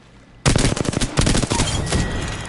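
Sustained automatic gunfire from a weapon in the video game Apex Legends, a loud, dense burst of rapid shots kicking in abruptly and continuing without pause.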